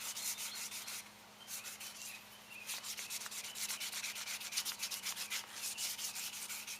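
Sandpaper rubs against the curved radius edge of a window being fitted to a Glastar/Sportsman light aircraft, making steady back-and-forth scraping strokes in a quick, even rhythm, close and clear with no talking.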